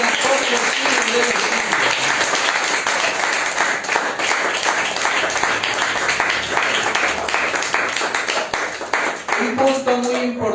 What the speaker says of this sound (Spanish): Démosle una fuerte ofrenda de aplauso al Rey que vive y reina por los siglos